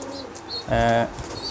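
Pigeons in a cage-lined breeding room give a short burst of cooing and fluttering, one close, strong call lasting about a third of a second amid quiet background rustle.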